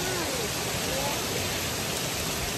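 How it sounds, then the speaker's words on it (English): Hail falling during a storm makes a steady, faint hiss of pelting ice heard from indoors, with no distinct voices over it. "It's currently hailing."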